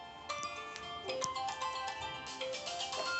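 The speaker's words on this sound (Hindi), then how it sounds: "फोन किसका आ गया देखो रे" A mobile phone rings in a classroom during a maths lesson, playing a steady melodic ringtone that continues without pause for several seconds at moderate volume, with no talking over it.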